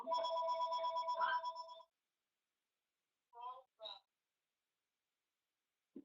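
A telephone ringtone plays a close, bright, repeating electronic warble for about two seconds and then stops, followed by a few short bursts of a speaking voice.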